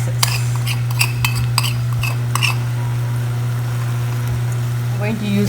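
Utensil scrapes and clinks against a pot while spices are stirred into red lentil sambar, a series of sharp metallic taps over a steady stove hum, close and clear.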